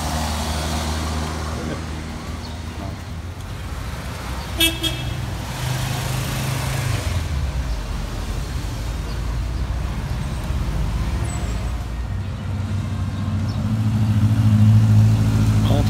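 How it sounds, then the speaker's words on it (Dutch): Dutch vintage cars on an oldtimer rally near the Moselle roll past one after another, with a steady engine rumble, a short horn toot, and people talking over the traffic. "Heel veel Nederlandse auto's rijden erheen."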